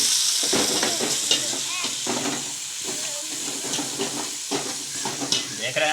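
Chili, onion and tomato masala fries in ghee, a continuous loud sizzle with stirring scrapes and bursts of crackle, while someone talks briefly over the cooking.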